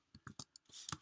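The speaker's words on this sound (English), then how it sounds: "If I start typing" A few quiet, separate clicks from typing on a computer keyboard, tapped in an irregular rhythm within about a second.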